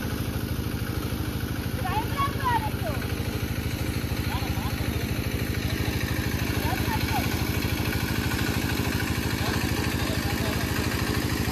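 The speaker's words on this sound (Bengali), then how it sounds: "মোটর চলছে জল টানার জন্য, ওর আওয়াজটা বেশি তো" A motor pump runs steadily beside a pond, drawing water with a continuous low engine-like drone and rattle that fills the whole stretch while people talk over it.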